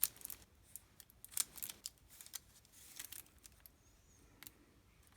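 Heated, still-soft shotgun-shell plastic being cut with scissors, a few crisp snips and crinkles at an irregular pace, close up and fairly quiet with no talking.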